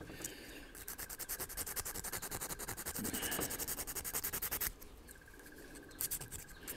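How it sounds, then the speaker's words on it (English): Steady rhythmic rasping of 220-grit sandpaper rubbed back and forth over a handmade fishing lure, continuous strokes for several seconds before easing off. "sanding the same way again"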